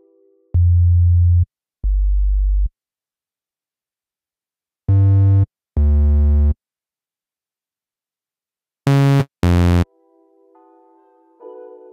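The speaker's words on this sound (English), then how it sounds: "we set the voice to mono since we'll be creating a sub bass sound. We then select sine as our waveform." A mono sine-wave sub bass patch from the Retrologue 2 synth in Cubase plays in separate sustained notes, first deep low pairs, then brighter, harmonically richer pairs, then short higher stabs, with silent gaps between and a soft tone trailing at the end.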